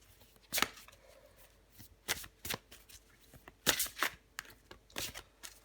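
Tarot cards shuffled by hand in a series of crisp riffling bursts, close and fairly loud, separated by brief pauses, with no talking.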